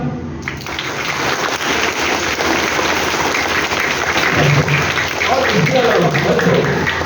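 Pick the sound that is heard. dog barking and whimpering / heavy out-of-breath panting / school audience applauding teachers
school audience applauding teachers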